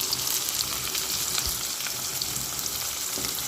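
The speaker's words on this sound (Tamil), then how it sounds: "இப்போ இதில் வெங்காயம் சேர்த்துக்கலாம் இதில் வெங்காயத்தை சேர்த்து நல்லா வதக்கிக்கிறலாம்" Onion fries in hot oil for an anchovy fish curry, giving a dense, even crackling sizzle up close that runs without a break for the whole stretch, with no talking.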